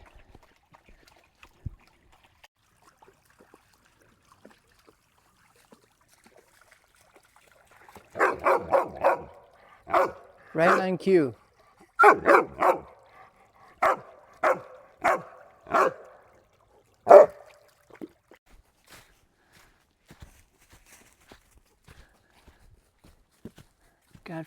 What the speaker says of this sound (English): loves nothing more than a bark fest at a stream